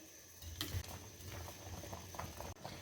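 Petha (ash gourd) pieces boiling in a pot, a faint continuous bubbling patter with small irregular pops and a brief spoon knock, heard quietly and without speech.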